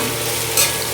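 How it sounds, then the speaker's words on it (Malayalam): Crab curry frying in a pan while being stirred, giving a steady close sizzle with a brief scraping swell midway and no talk. "അതിനായിട്ട് നമ്മൾ ഇളക്കും."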